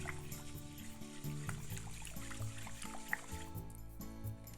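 Water draining from a pot of freshly rinsed rice, a steady close trickle and pour with low gurgling that runs continuously for a few seconds.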